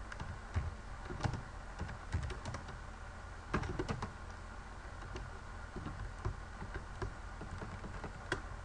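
Keys on a computer keyboard click in quick, uneven bursts with short pauses between them, fairly faint and close, with no voices.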